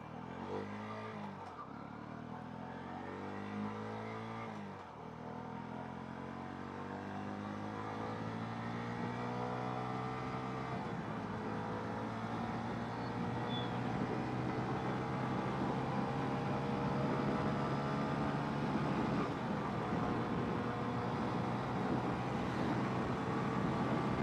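A Honda CB 125 Hornet motorcycle idles, then its exhaust note climbs steadily as it pulls away in first gear. The engine tone sounds close and rising, with no talk.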